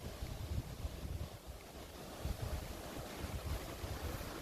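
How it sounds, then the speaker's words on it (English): Gusting wind buffets a microphone in a churchyard, a steady rumbling roar with several stronger gusts, no voices. "you'll have to excuse the blowing because I can't control the wind, sadly."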